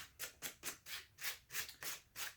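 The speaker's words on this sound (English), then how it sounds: "I'm going to bump it with just real super lightly with this sandpaper" Restored chalk shed antler lightly sanded with sandpaper: eight quick, evenly spaced rasping strokes, close and fairly quiet, each a short dry scratch with brief gaps between, no voices.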